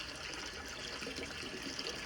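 Water running steadily from a tap at home, a soft continuous hiss and trickle, fairly faint and even throughout with no pauses.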